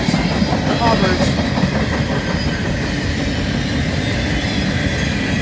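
A northbound manifest freight train led by CN ES44DC and C44-9W locomotives passes close by, steady rumbling wheels with rhythmic clicking over rail joints and faint squeals, loud and continuous throughout.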